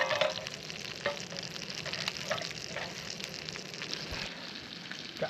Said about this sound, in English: Nice low temp cooking in butter